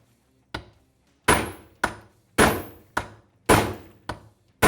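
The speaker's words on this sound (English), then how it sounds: "we're going to hammer this ball joint down into it." A hammer drives an ATV ball joint down into an A-arm resting on a socket. There are about eight sharp, ringing metal blows at a steady, deliberate pace, close by and loud.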